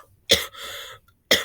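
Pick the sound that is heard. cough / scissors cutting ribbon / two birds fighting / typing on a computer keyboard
cough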